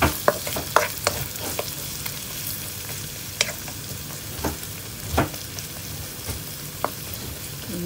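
Lots of onions sautéing in a pan until light brown, a steady low sizzle broken by scattered sharp spatula taps and scrapes, close by with no talking.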